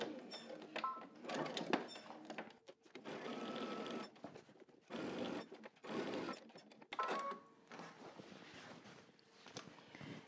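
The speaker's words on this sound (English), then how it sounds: "we're gonna go ahead and just baste these together along the side." A sewing machine bastes the side seam of a large apron pocket, stitching in several close, loud bursts separated by brief pauses, with no voices over it.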